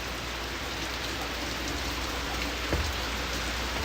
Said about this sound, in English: it is absolutely pouring here in Oswego right now